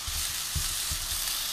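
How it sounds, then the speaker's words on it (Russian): Apples fry in a pan with a constant sizzle and crackle, close and fairly quiet, broken by a few soft stirring thumps and with no talking. "Вот как вы думаете, что это такое жарится? Правильно, яблоки."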